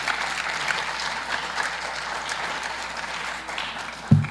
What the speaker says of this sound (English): Now, let's give my team members a round of applause.